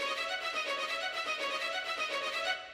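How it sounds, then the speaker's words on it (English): Sampled bowed strings play short, rapid spiccato notes in a steady repeating pulse, full and bright, with no voices. "So their spiccatos I found for this high-end strings were amazing."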